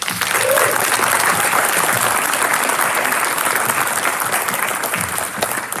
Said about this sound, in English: I'd like to give these kids on stage one round of applause, please.